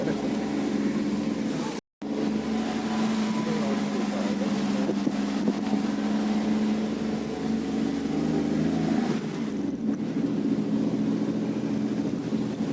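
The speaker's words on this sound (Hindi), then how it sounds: "बहुत संभल के ड्राइविंग करनी पड़ती है यहाँ पर" Car engine labouring steadily up a steep mountain road near Nainital, a continuous droning hum with wind buffeting, briefly cut out once early on.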